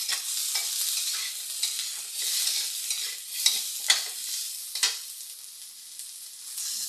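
Potatoes sizzle and fry in a hot pan with carrots, a steady hissing crackle broken by scraping and clattering stirs, close and continuous without talk.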